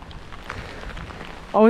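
Monsoon rain in Maharashtra falls in a soft, steady patter, close but fairly quiet, before a voice abruptly begins at the very end.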